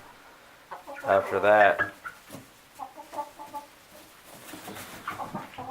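Chickens and hens in a backyard coop give a loud, close run of clucks and squawks, then softer scattered clucking, with a voice speaking briefly over them.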